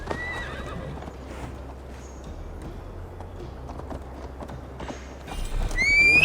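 Horses in the Assassin's Creed Valhalla game gallop and clop steadily over the ground, a horse whinnying at the start and again near the end, while the galloping grows louder in the last seconds.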